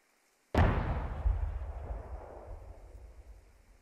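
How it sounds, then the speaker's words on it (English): Anti-personnel mine exploding in the video game Squad: one sudden loud blast after brief silence, followed by a long rumbling decay that fades over several seconds, with no talk. "One of the AP mines blew up."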